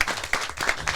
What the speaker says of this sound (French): On applaudit les deux.